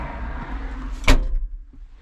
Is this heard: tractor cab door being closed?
yes